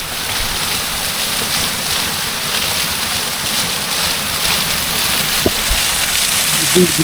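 A hidden waterfall in Araku rushes in a loud, continuous roar that fills the whole clip, with a few faint clicks near the end.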